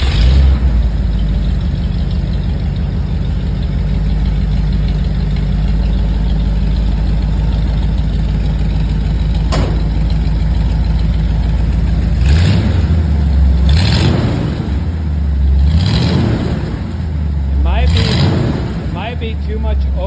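Ford F100 truck engine rumbling at idle through shortened glass pack mufflers, a loud, steady low burble, then four sharp throttle blips in quick succession near the end.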